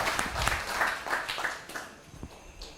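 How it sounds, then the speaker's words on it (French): Applause from an audience for someone speaker at a talk, a brief burst of scattered clapping that thins out over a few seconds. "Applaudissements pour elle."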